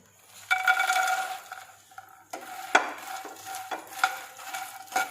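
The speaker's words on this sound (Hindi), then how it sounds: "पैन में मैंने ले लिया है 1 चम्मच देसी घी, जिसमें कि मैं मखानों को पहले रोस्ट करूंगी" Fox nuts (makhana) being roasted in a spoonful of desi ghee in a pan, with a steady sizzle and repeated scraping and clinking of a spoon stirring them, close and moderately loud, with no one talking.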